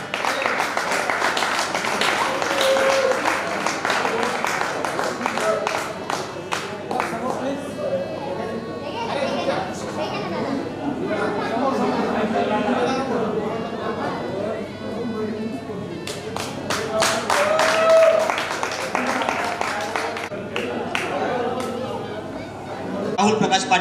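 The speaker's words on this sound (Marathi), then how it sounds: "त्यांच्यासाठी वेगळ्या टाळ्या होत्या" Scattered applause at a 1999–2001 agricultural diploma alumni reunion greets newly arrived classmates, steady clapping rising in bursts over about twenty seconds amid the chatter and talk of a gathered room.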